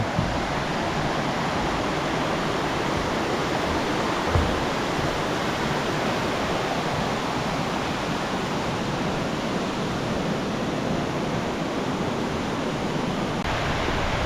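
Steady, full roar of Lan Sadet waterfall in Doi Inthanon's forest, loud and continuous with no breaks, a dense rushing wash filling the whole clip.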